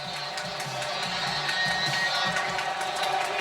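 Large football stadium crowd at a Wisconsin versus Penn State college game roaring steadily on third down, a dense continuous wash of cheering heard from a distance.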